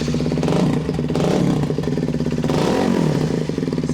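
A Honda CBR 125 Repsol motorcycle engine starts and settles into a clattering, fast-pulsing idle, close up and fairly loud with a brief rev partway through.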